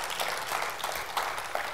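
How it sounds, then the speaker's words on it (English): Audience applause at a church Bible study, a brief, even patter of clapping from the congregation. "give God a round of applause, you guys"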